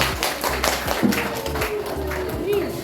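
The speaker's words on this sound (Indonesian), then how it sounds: "Tepuk tangan dulu" Schoolchildren in a classroom clapping their hands together in quick, loosely synchronized bursts, close and fairly loud, with brief thumps and some voices mixed in.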